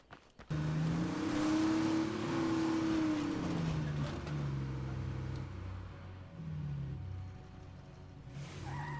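A vehicle engine in the zombie survival game State of Decay 2 rises as it accelerates, holds a steady drone, then dips and revs again, loud and close with no talking.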